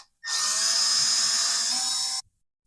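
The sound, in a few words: drilling a hole with a drill bit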